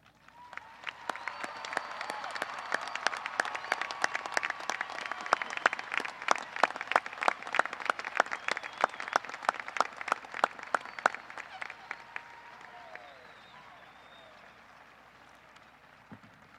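A graduation audience claps steadily for students entering the armed forces, a dense patter of many hands that swells and holds for several seconds before tapering off, with a few distinct sharp claps standing out near the microphone.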